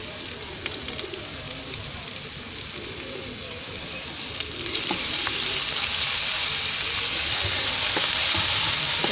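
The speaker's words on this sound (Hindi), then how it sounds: "इसको भी थोड़ा सा घी में भून लेंगे।" Ginger garlic paste fries in ghee over lightly browned onions, giving a steady close sizzle with faint stirring scrapes that grows louder and hissier about halfway through.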